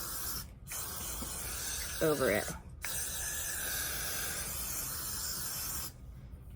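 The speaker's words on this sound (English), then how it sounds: "Now I'm going to go ahead and start spraying my Got to Be Glued freeze spray" Long hissing bursts of Got to Be Glued freeze spray on a wig, close and steady, broken by brief pauses, with a short spoken phrase partway through.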